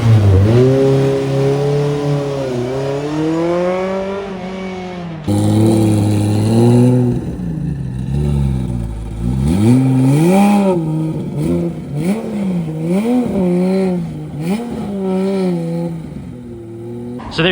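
A Porsche 993 RWB rolls in on a Tokyo street, its engine revving and rising in pitch through several blips, loud and close, with brief throttle changes and some clatter.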